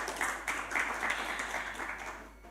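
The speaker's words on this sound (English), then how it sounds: "Ladies and gentlemen, kindly give warm applause to Mr." An audience at an international hospitality entrepreneurship conference applauds a speaker with dense, steady clapping at moderate volume that fades slightly toward the end.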